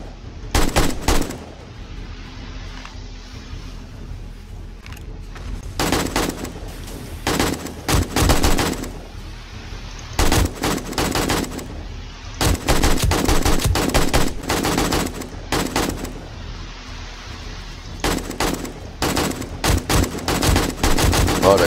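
Dense bursts of automatic gunfire from the 7 Days to Die video game during horde night, coming in repeated rapid volleys with brief pauses between them and staying loud and close throughout.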